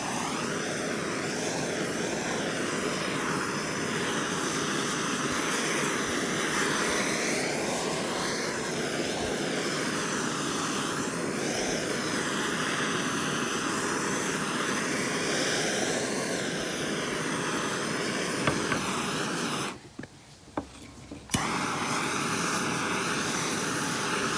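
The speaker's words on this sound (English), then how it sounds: "So propane torch, and we'll just get to work." Propane torch burning an axe handle to give it a burnt finish, a loud steady roaring hiss that wavers slightly, cutting out briefly near the end before resuming.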